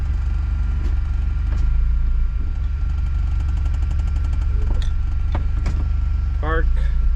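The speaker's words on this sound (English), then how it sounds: "Now the car is moving." A car pulls away and drives on after its shifter actuator is tested and it shifts out of park: a steady low engine and road rumble continues throughout, with light clicks and rattles and a brief voice near the end.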